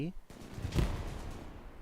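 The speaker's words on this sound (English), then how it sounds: "MG42 going crazy. Actually, that's MG34" An MG34 machine gun fires in the World War II shooter game Hell Let Loose, a rapid burst of gunfire in the mid-distance, set under a commentator's voice.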